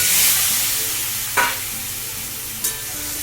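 Eggs frying in hot oil for egg curry make a dense, continuous hiss close by, broken by two brief scraping stirs, with no one speaking.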